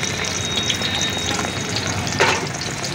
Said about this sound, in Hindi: और ये तल रहा है आपका।